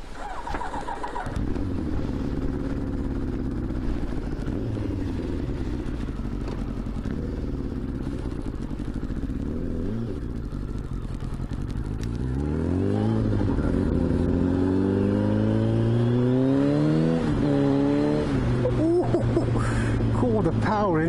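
A 1989 Kawasaki ZXR750 H1 motorcycle engine running and pulling hard, steady and loud with rising revs toward the end, heard beneath someone speaking.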